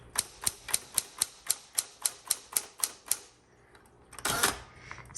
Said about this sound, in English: Okay, 1960 Smith Coronet automatic. Let's see if the tab works there.